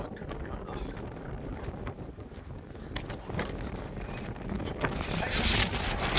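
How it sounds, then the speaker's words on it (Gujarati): Wind gusts across a hillside near Girnar in Junagadh, buffeting the microphone with a steady broadband roar that swells louder toward the end. "પવન આવે"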